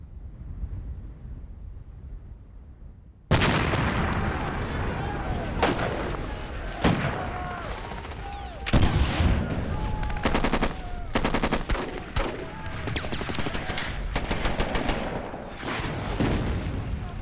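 A World War II battle against Japanese forces: after a few quiet seconds, a loud, close barrage of artillery and mortar explosions erupts, mixed with rapid bursts of gunfire and heavy booms.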